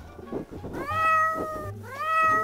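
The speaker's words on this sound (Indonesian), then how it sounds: "Kucing, ambil cepat, ketinggalan dia tidak bisa berenang." A cat meows twice, close and clear, in long drawn-out tonal cries separated by a brief pause, with muffled thumps and room noise underneath.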